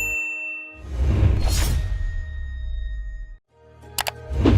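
A notification bell effect rings out, with whooshing swells and a bright metallic ding near the end, loud and close with no voices.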